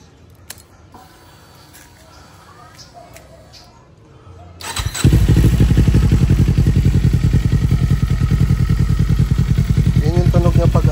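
A Kawasaki Eliminator 450 fitted with a Yoshimura R77 aftermarket exhaust fires up after faint quiet handling noises, then settles into a loud, close, steady, evenly pulsing idle; a voice speaks briefly near the end.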